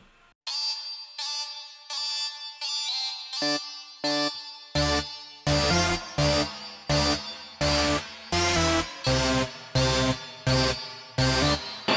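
Bright, layered electronic synth melody with a gritty, saturated edge, starting sparse then building into loud rhythmic chords pulsing steadily to the end.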